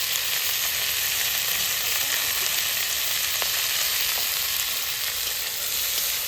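Tomato and dried red chilies fry in a pan alongside onion, garlic and ginger, giving an even, close crackling sizzle that holds steady throughout.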